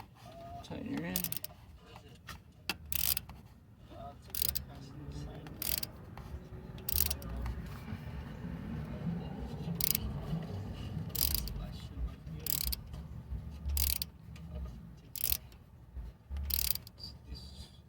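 Ratchet wrench tightening a new oil pressure sending unit on a 2003 Chevrolet Impala 3.4 engine, with repeated sharp clicking bursts in short runs close by over a low mechanical hum.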